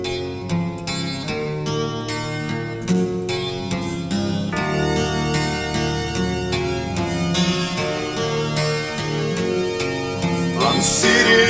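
Slow doom metal, the opening song, with a mournful funeral-march melody over heavy distorted guitars and drums, playing loud and steady throughout with no vocals yet.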